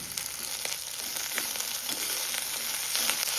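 Ginger, garlic, mint and coriander frying in oil for chicken biryani, giving a steady close sizzle and crackle with faint stirring, no voice.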